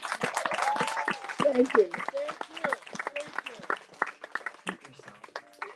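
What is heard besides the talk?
round of applause for a reverend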